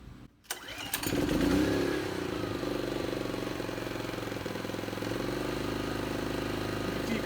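A Westinghouse iPro4200 inverter generator is started from the run/stop switch: a brief crank and then the engine catches, settling into a steady, moderately loud running drone without efficiency mode, recorded up close with no talking.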